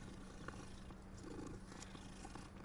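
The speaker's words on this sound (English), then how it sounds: "Oh, we can pet the cat." A cat purring in Hogwarts Legacy, a soft continuous rumble that stays faint and close under a low background hum, with no talking.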